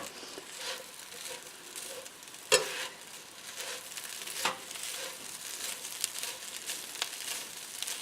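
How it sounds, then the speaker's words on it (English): Chicken enchilada filling sizzles in a skillet with a steady, soft crackle throughout. Occasional louder scrapes or clicks come from stirring, and the sound is fairly quiet and close. "You can hear it sizzling a little bit"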